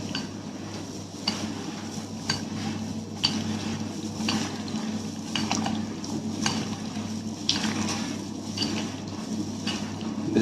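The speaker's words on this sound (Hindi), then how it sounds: "सो इसको हम अच्छे से मिक्स कर लेंगे।" Chaat being stirred with salt and chaat masala in a bowl in a home kitchen, a steady scraping, clinking rhythm of a spoon against the bowl with a low hum underneath.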